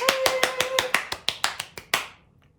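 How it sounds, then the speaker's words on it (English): Crisp, close hand claps in a quick steady run, about ten in just over two seconds, from a storytelling group clapping for a boy named Abdul, ending with a short fading tail. "Everybody, let's clap for Abdul."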